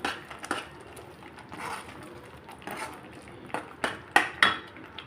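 A metal spoon clinks and scrapes against a pan while turmeric, kasuri methi and spices are mixed into curry gravy, a few soft stirring sounds followed by sharper taps on the rim near the end.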